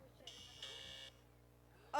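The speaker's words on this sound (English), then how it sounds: "all the teams will be clicking the buzzer on the count of 3" Electronic quiz buzzers sounding during a school quiz, two short loud buzzes in quick succession and a rising tone at the end, over a quiet room.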